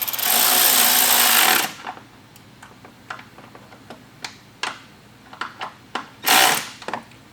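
A power tool with a 10mm socket drives a bolt on a mud flap bracket of a 2019+ GMC Sierra 1500. A loud, close, sustained whirring burst is followed by scattered light ticks and clicks, then another short burst.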